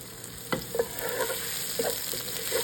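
Ginger being stirred into a pot of Filipino rice soup (lugaw), with a few scraping spoon strokes and soft clinks over a steady low simmering hiss, close by and without talk.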